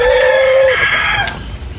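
A sick chicken suffering from avian malaria gives one drawn-out, strained crow-like call that breaks off partway, loud and close, then fades into quiet background noise.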